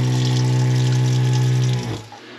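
Water runs from a cold-water spigot in a box-trailer camper conversion, a loud, steady hum with pump-like drone that cuts off near the end, leaving faint trickling.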